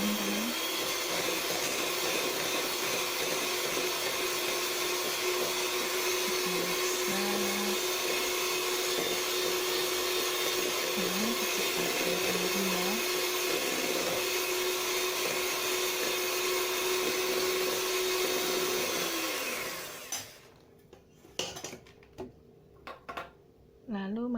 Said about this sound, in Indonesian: Terus selanjutnya kita mixer dengan kecepatan tinggi ya teman-teman.